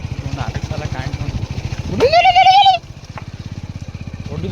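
A motorcycle putters along a slippery muddy hill path with a close, rhythmic low engine thump, briefly revving higher mid-way, while someone speaks over it.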